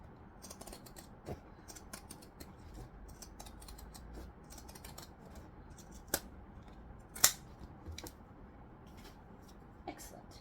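Scissors cut through thick, layered fabric at a pocketed section of a sewing project. A few sparse, soft snips and clicks sit over a quiet, low background, with one sharper snip standing out.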